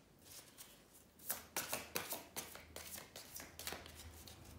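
Oracle cards riffled and shuffled by hand in a quick series of crisp, papery flicks and slaps. The sound is close and fairly loud, with no talking.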